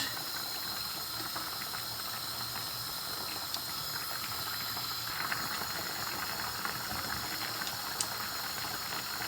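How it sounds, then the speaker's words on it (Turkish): A pot of homemade pumpkin dessert, made from garden-grown pumpkin, boils uncovered on high heat, giving a steady close hiss of bubbling with faint pops throughout and no voices. "Açık kapakla kaynatıyorum."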